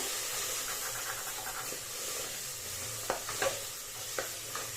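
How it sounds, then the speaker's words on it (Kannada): Masala sizzling and frying in a pan with fenugreek leaves for menthya palav, a steady close hiss with a few sharp stirring scrapes and spatula knocks near the end. "ಹಾಕ್ಕೊಂಡು ಮಸಾಲೆಲ್ಲ ಕಂಪ್ಲೀಟಾಗಿ ಚೆನ್ನಾಗಿ ಫ್ರೈ ಮಾಡ್ಕೊಳ್ಳಿ"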